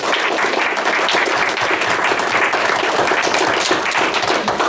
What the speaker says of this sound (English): Can we give all of the adults a round of applause for being part of it?